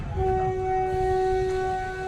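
A train whistle sounds as a long, steady, loud tone at Juni Chavand railway station, on the metre-gauge train between Junagadh, Sasan Gir and Delvada, with a low rumble underneath.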